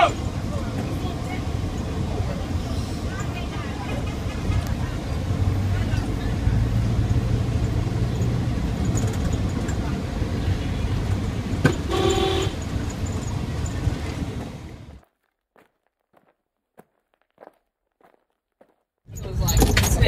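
A vehicle rumbling down a road in La Pointe, Haiti: a steady, loud rattling drone with bumps and clatter for most of the clip, then it abruptly drops to near silence with faint ticks before the noise returns.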